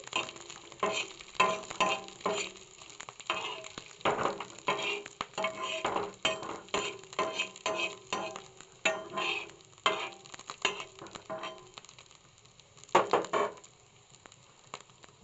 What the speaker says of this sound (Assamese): মই মাছখিনি ভাজি ল'ম।